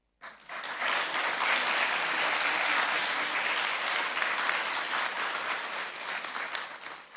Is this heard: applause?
yes